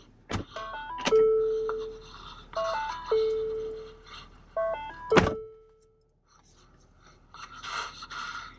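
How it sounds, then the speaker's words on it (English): Door of a 2020 Lincoln Aviator Reserve opening, with a door thunk followed by a soft, melodic chime of a few rising tones recorded by an orchestra, repeated three times amid latch clicks, near and clear. "For example, opening the door here."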